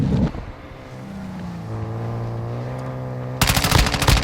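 Automatic gunfire erupts in Call of Duty. A dull thump and a low droning rumble come first, then a loud, rapid, dense burst of shots breaks out near the end with no talking.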